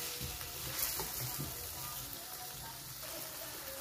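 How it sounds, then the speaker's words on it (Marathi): Tomatoes sauté in a pan for a rustic village-style vegetable dish, giving a soft, steady sizzle with light stirring scrapes and clinks, quiet and close, with no voice over it. "2-3 मिनिटांसाठी ना आपण टोमॅटो परतून घेऊ"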